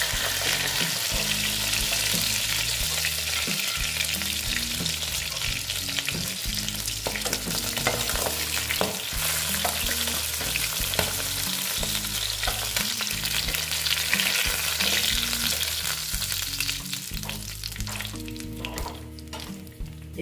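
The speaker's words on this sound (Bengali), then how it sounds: "দেখো, মাছটা ভাজা হয়ে গেছে।" Pabda fish fry in hot oil in a pan, a loud, dense, continuous sizzle with crackling spatters and occasional stirring scrapes, heard up close with no talking.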